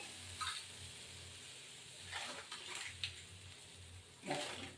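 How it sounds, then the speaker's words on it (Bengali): Rohu fish curry with water simmers in a pan while a spoon stirs it, giving a soft continuous bubbling hiss broken by a few brief scraping stirs, close and fairly quiet, with no voices. "এবার একটু নাড়াচাড়া দিয়ে ঢেকে দেব"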